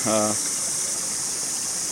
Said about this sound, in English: We're checking out this spring that's percolating into the river right here.